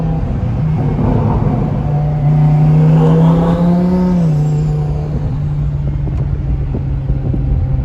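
Twin turbo Lamborghini Huracan engine accelerating hard from the cabin, a loud steady roar that climbs in pitch, peaks mid-way and settles back into a sustained drone.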